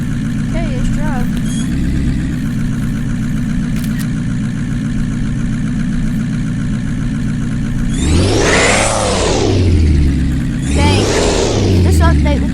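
A truck engine in a video game hums steadily at a low idle while driving, then revs hard in two rising and falling surges near the end, loud and close.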